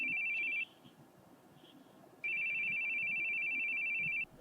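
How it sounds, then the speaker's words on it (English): A telephone rings in two steady electronic bursts, the first short and the second longer, heard alone in a quiet room with no talking. "I hate the sounds of phones."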